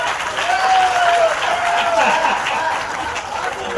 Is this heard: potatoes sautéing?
no